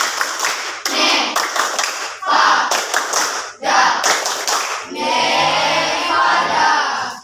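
Junior high students in Indonesia perform the Tepuk Nevada chant: bursts of rhythmic group clapping in sharp bands, separated by short pauses, ending in a longer sustained clap with voices shouting along.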